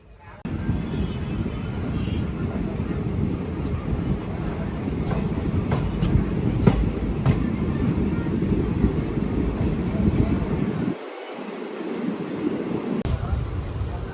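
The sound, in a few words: superfast express train running from Anakapalli to Duvvada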